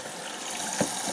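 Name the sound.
machine filling up with water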